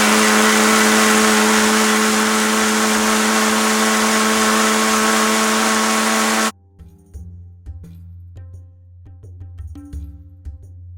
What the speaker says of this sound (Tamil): இப்போ இது எல்லாத்தையும் சேர்த்து மிக்ஸி ஜாரில் நல்லா பிளெண்ட் பண்ணிக்கலாம்.